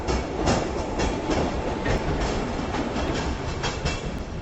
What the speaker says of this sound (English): Hey, here comes the tram.